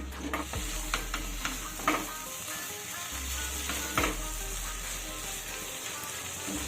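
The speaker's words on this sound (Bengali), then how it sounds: "এবার ভাজা পটলগুলোকে ডালের সাথে মিশিয়ে দিয়ে নাড়াচাড়া করে দিতে হবে।" Fried pointed gourd is stirred into moong dal in a pan, a soft continuous sizzle marked by repeated spoon scrapes and knocks against the pan, with no voices.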